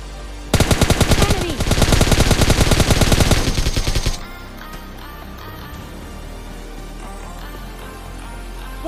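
An S12 shotgun in PUBG Mobile Lite fires a rapid burst of loud, densely packed shots for several seconds, then the game's ambient noise continues on its own.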